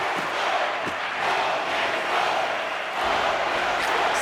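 A hockey arena crowd during a tie game late in a period makes a sustained, roaring murmur that swells and ebbs without stopping, with scattered shouts rising from the din.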